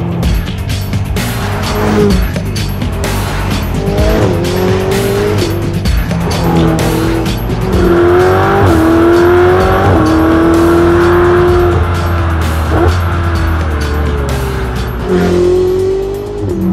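A 2016 Ferrari 488 GTB driven hard, its engine revving up and down through repeated rising pulls with sharp tire squeal and skidding, loud and close throughout.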